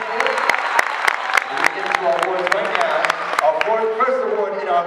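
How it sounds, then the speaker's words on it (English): A crowd applauding cheerleaders at an award ceremony, with sharp individual claps standing out over a continuous wash of clapping and cheering voices, loud and sustained for about five seconds. "why don't we give our cheerleaders a big round of applause once again?"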